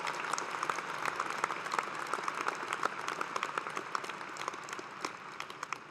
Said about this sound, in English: Let's give them a big Etihad round of applause and thanks.